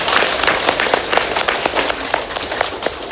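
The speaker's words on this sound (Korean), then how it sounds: "여러분들을 위해서 박수 한 번 더 보내드리고," An audience at a Buddhist lecture on the Avatamsaka Sutra claps in a brisk, scattered round of applause, individual hand claps audible and fairly close, with no talking over it.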